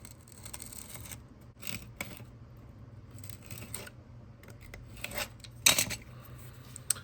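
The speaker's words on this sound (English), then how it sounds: "You're just trying to cut this edge off, but you don't really want to cut into the plastic step." Scissors or a blade cutting the edge off a plastic step for an RC helicopter's scale landing gear, quiet intermittent snips and scrapes with a sharper burst near the end.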